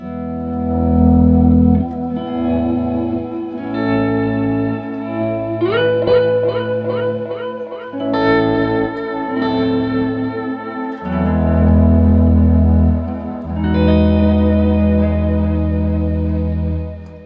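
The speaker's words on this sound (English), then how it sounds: "control the overall volume of the guitar signal without cutting off the trails from the delay and reverb" Electric guitar chords and picked notes drenched in delay and reverb through a Moen GEC9 pedal switcher, with echoing trails ringing out between phrases; loud and unaccompanied.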